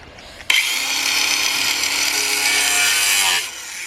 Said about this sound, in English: We need to basically saw this bit off here, and then we can get to the nut.